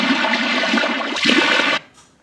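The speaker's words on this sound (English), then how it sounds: "You pour it into the drainage here, like this" Liquid poured into a drain, a steady rushing gush of water running for nearly two seconds, then cutting off to a faint trickle.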